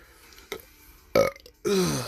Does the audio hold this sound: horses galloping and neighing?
no